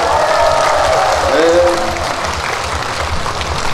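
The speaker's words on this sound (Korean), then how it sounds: "박수!" Crowd applauding at an outdoor pumba performance on the main stage of the 2024 Eumseong Pumba Festival, continuous close clapping with a brief rising vocal cry over it midway.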